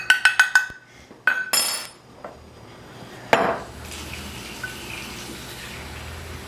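Egg powder is stirred with water in a small bowl: a few quick clinks of a utensil against the bowl, then a brief run of tapping and splashing, followed by quiet, faint stirring.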